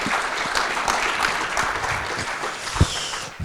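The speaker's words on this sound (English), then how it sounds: "we can applaud Laurie from Microsoft Corp." An audience at a tech conference bursts into sustained applause, a full wash of clapping that tapers slightly near the end, with a few louder individual claps standing out.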